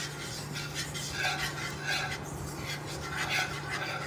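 A spoon stirs flour (maida) and butter together in a pan over a low flame, producing a steady, soft scraping and shuffling texture that stays close and continuous.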